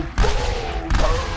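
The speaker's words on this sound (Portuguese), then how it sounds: "É que ele atira assim, né? O Reaper." Reaper's shotguns firing in a VR Overwatch weapon simulator played on an HTC Vive: two heavy blasts less than a second apart, each followed by a lingering ring.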